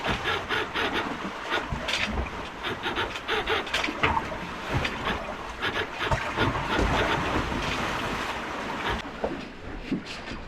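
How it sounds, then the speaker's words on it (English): Windpilot wind-vane autopilot on the Autopilot 2000-era setup working aboard an ocean sailing trimaran at night, a busy mix of creaks, knocks and rushing water and wind, steady and fairly close throughout. "trying to bring over how it is to listen to the noise of the autopilot"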